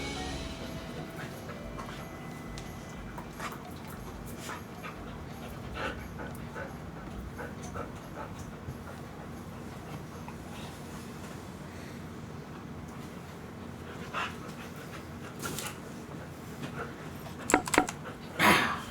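A dog pants and plays somewhere in the background of a room, faint under a steady hum, with scattered clicks and thumps growing near the end.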